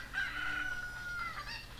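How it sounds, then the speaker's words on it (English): A chicken in The Legend of Zelda: Ocarina of Time gives a drawn-out, strained squawking call, fairly loud against a steady game background, with no talk. "Chicken! Chicken! Chicken!"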